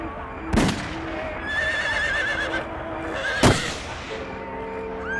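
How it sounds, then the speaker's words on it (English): A horse neighs with a loud whinny amid a dense, layered soundscape, with two sharp cracking impacts ringing out and a warbling tonal background throughout. "Cayó mi caballo."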